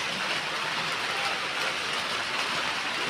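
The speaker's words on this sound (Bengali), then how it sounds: "যেই বৃষ্টি পড়ছে" Rain falls steadily at night in Darapur, a continuous, even hiss of drops filling the air with no pauses.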